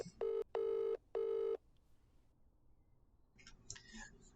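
A phone placing a call, with three loud electronic tone bursts in quick succession followed by quiet, then a soft voice begins talking.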